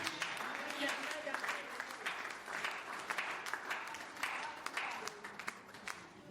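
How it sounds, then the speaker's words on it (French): A church congregation applauding at a preacher's call, a dense wash of many hands clapping together, sustained and fairly loud throughout, with voices mixed in under the clapping. "Applaudissez."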